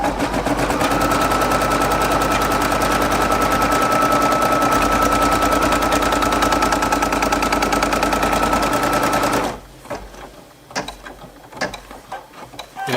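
A machine embroidery machine stitches a design with a fast, loud, steady mechanical clatter and hum heard close-up, then stops abruptly, leaving quieter scattered handling noises.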